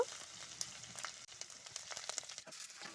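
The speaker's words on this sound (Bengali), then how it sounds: "রসুনটাকে এবার আমি ভালো করে ভাজা ভাজা করে নেব" Garlic fries in oil in a pan for a curry, a faint, steady crackling sizzle with small spits and pops, and no voices.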